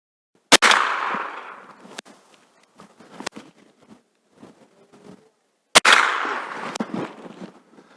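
Two sharp, loud gunshots about five seconds apart at a circle target six metres away during shooting practice, each with a ringing tail, with faint handling clicks in between.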